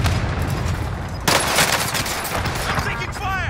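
Gunfire in the video game Rebirth, with rapid bursts of shots that turn dense and loud partway through and overlap with steady game noise.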